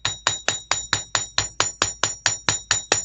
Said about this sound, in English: now I'm going to go back in and paddle the ends with the chasing hammer side